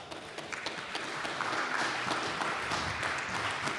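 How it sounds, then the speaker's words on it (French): Moderate audience applause at a round-table conference on French history, building slightly and holding steady as a soft, dense clatter of clapping with no talking. "Sous vos applaudissements, mesdames, messieurs."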